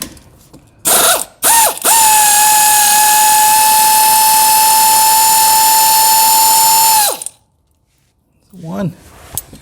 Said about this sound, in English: Let's go ahead and get these bolts off that hold the skid plate on.